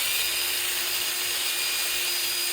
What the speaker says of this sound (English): I'm drilling through the wall now, as I'm also using the bit to cut through the wall